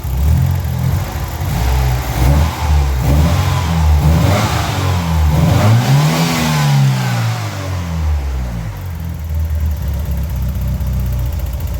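An Opel C20NE car engine with a slightly uneven third cylinder revs up and back down, loud and close, with no talk, the pitch sweeping upward near the middle before settling back to a steady idle.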